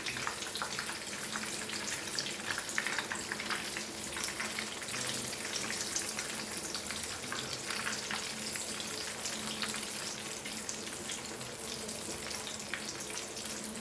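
Fish fingers frying in hot oil, a dense, even crackling sizzle that carries on steadily without pause at moderate loudness.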